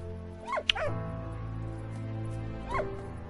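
A small dog in the video game Valiant Hearts gives a few short yips and whimpering barks, two close together near the start and one more later, over a steady droning game score.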